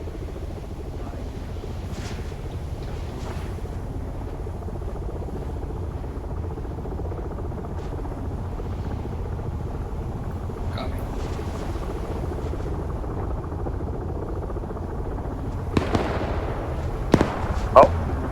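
Military helicopter during platoon training, a steady rotor and engine drone sustained throughout, with a few sharp louder cracks near the end.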